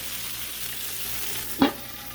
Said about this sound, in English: It's on low, and you see it's a popping.